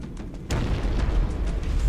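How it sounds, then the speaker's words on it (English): A loud explosion bursts in Halo: Combat Evolved at about half a second, followed by sustained rumbling battle noise with no talk. "I know exactly where all the explosions are."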